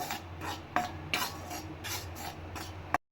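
Black urad dal dry-roasting in a kadai, stirred with a scraping utensil: close, rhythmic rasping strokes with metallic scrapes, ending on a sharp clink.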